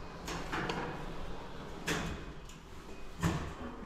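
Doors of a 2018 ShchLZ passenger lift in a Moscow apartment building, rated 1000 kg at 1.4 m/s, slide and thud several times, close and moderately loud, with no talk over them.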